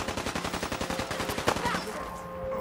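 Rapid automatic fire from the Artifact gun in Fallout 4, a steady burst of evenly spaced shots for about two seconds, then a fading tail with a faint tonal whine.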